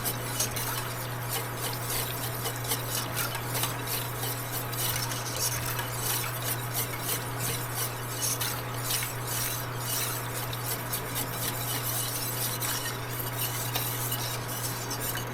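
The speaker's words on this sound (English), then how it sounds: "You want to make sure everything is mixed in really well and starts to thicken just a little bit" A spoon stirs chicken tetrazzini sauce in a pan with steady scraping and light clinks against the metal, over a constant low hum, close and continuous with no talking.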